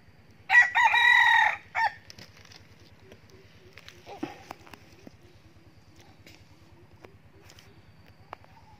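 A young Vietnamese rooster, a light high-legged bird under forest training, gives one loud crow early on, followed by scattered faint clucks and small rustles over a steady low hum.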